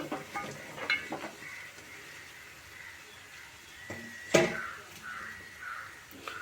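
Carrot pieces being stirred into a frying tomato curry with ginger paste in a village kitchen: sparse, faint scraping strokes over a soft sizzle, with one sharper scrape standing out near the end.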